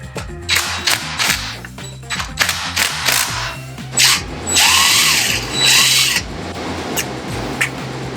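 Power tool working on the clutch bolt of a Harley Davidson FXR, with repeated loud whirring and rattling bursts of a few seconds each, broken by short gaps and metallic clatter.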